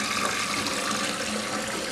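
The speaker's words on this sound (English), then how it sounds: "Let me flush it again." A 1963 Briggs toilet flushing, with a steady loud rush of water filling the bowl close by and nothing else heard.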